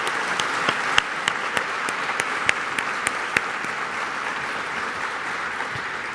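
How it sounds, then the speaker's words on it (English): Steady applause from an audience at a community foundation breakfast, honoring staff and volunteers who serve youth in Manchester; continuous clapping at moderate level with a few sharper claps standing out, no talking. "I'd like to give them a round of applause for all that they do for the youth in Manchester"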